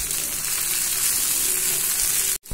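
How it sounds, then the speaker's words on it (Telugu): Onions and tomatoes frying in oil in a pan for an egg kofta curry, a loud, continuous hiss and sizzle that cuts out briefly just before the end. "ఈ టమాటాలు కూడా వేసుకొని బాగా ఫ్రై చేసుకోవాలి."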